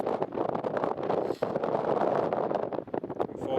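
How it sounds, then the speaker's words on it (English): Wind buffets the microphone at Newcastle Airport beside Runway 25 on a cold January morning, a loud, steady rumble and rush with gusty swells and brief dips, no talking heard. "Unfortunately, it is a windy day"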